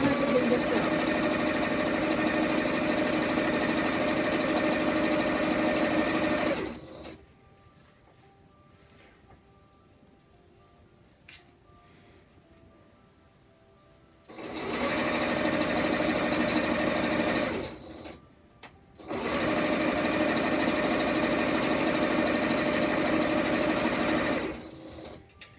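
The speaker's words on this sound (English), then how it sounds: "And I begin to sew." A sewing machine stitches fabric for a face mask in loud, steady bursts of whirring, with two quieter pauses between the runs.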